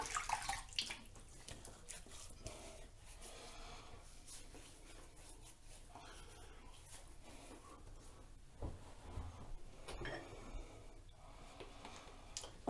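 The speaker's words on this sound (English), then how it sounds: "I'm gonna go ahead and wet my face" Water splashes and drips in a sink as a face is wet before a shave with a Blackland Blackbird razor, in uneven bursts, close and fairly quiet.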